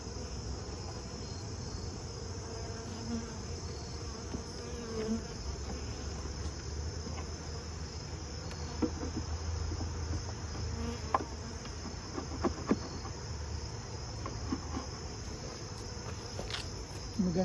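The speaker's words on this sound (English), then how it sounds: "Some nice bees." A continuous low hum of many honey bees buzzing together at an overwintering nucleus colony hive, steady and even throughout, with faint scattered clicks and rustles in the background.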